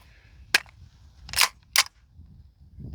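Three sharp suppressed rifle shots fired through a DeadAir Wolfman suppressor on a 9-inch barrel, close and loud, spaced unevenly over a few seconds with quiet between them.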